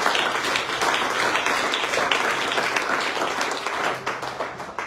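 A church congregation applauds steadily and loudly throughout, a dense continuous wash of many hands clapping with no break.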